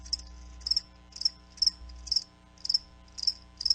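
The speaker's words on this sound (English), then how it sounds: "That's right, crickets." Crickets chirp in a radio advertisement, with about eight evenly spaced, high trilling pulses repeating steadily over a low hum and no voices.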